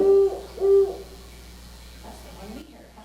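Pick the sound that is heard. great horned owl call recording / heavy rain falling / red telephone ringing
great horned owl call recording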